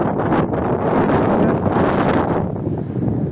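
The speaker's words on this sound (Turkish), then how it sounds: "deniz rüzgarı." Sea wind gusts at the seaside, blowing steadily and roughly across the microphone as a loud, broad rush that eases slightly near the end.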